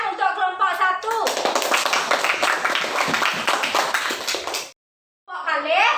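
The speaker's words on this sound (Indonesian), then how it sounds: "Tepuk tangan untuk kelompok" A class claps for group one during a Balinese language lesson. Steady, fairly loud clapping runs for about three and a half seconds and stops abruptly, with a teacher talking before and after.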